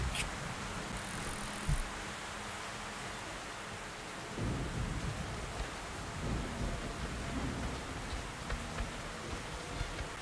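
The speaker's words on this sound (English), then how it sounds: "I think the lightning, the storm is making the light appear." Thunderstorm in the video game Metro Last Light Redux: steady rain hiss with a deep rumble of thunder rolling in midway, fairly faint and without voices.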